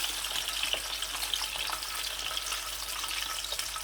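Chicken leg pieces, already boiled, fry over lowered heat in a pan, giving a steady, dense sizzle with faint crackles that holds evenly throughout at moderate loudness, with no voices.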